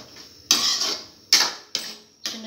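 Pork giniling stirred in a pan with a twist of liver spread, four sharp scraping strokes of a utensil against the pan at a steady pace, each one fading into quiet sizzle, close and fairly loud.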